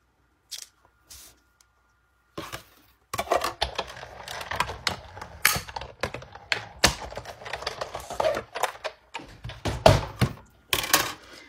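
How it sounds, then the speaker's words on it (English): A Big Shot die-cutting machine cuts out a cupcake shape from cardstock, producing a run of close, sharp clicks and clacks in irregular bursts, with brief quiet gaps between them. "I'm going to bring in the Big Shot. And I'm going to cut out the same shape."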